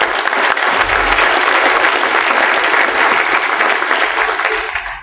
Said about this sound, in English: let's give them a round of applause for putting this together